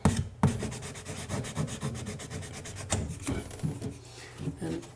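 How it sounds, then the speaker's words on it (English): A sponge scrubs residual paint and drywall compound off a surface during a sink and faucet installation, steady rhythmic rubbing strokes, close and fairly loud, with no talk over it. "Just going to use the sponge to get off some of this residual paint."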